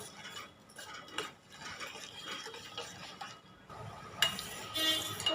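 A spoon scraping and stirring jaggery to dissolve it in a pot, with soft clinks and swishing that continue irregularly, close by and fairly quiet.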